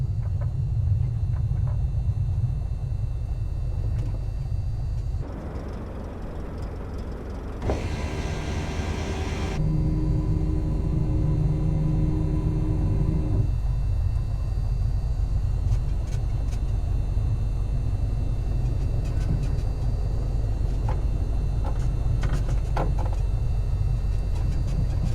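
A Cessna L-19 Bird Dog taxis in Microsoft Flight Simulator 2020, its piston engine a continuous low droning rumble at steady idle throughout, with a brief shift in tone partway through.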